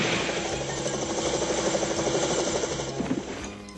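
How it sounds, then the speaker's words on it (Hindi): A cartoon helicopter helmet's loud, steady whirring drone like helicopter rotors, with a rumbling engine underneath, running continuously without any voices. "ये तो अच्छा हुआ कि मैं प्रोफेसर कीन बीन के हेलीकॉप्टर हेलमेट साथ ले आया था।"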